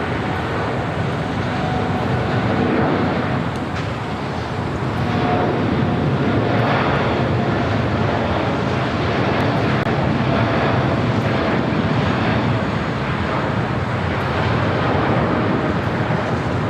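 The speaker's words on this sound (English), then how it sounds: "That American Dreamliner heading to Tokyo Haneda, now rolling down" An American Airlines Dreamliner bound for Tokyo Haneda rolls down runway 25 right at LAX on takeoff, a loud, continuous jet roar that holds steady and dense throughout, with no voices over it.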